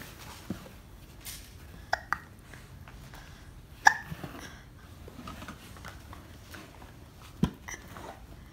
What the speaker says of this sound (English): And you got the hiccups.